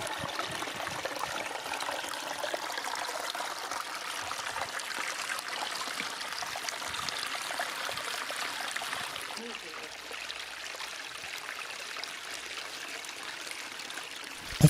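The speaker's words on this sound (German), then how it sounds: "Der Wasserkreislauf scheint sehr gut zu funktionieren." Water pours steadily down the weirs of a pump-fed garden stream, a continuous close rush and trickle that softens slightly toward the end.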